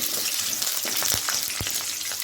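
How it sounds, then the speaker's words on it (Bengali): Potato pieces fry in hot oil for a curry, giving a steady close sizzle with a few louder pops and spits, and no voices. "আলুটাকে এবার লাল করে ভেজে নেব"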